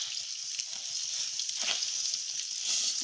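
White oil sizzles steadily in a wok as rice fries with bay leaves, a continuous close hiss with faint scraping underneath.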